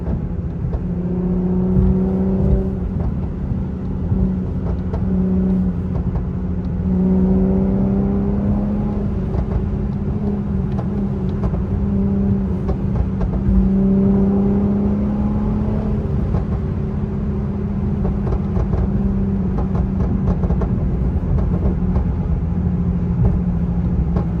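Tuned Infiniti Q accelerating 0 to 60 with a burble exhaust tune, its loud engine rising in repeated climbs through the gears, close and continuous inside the car, with no one talking.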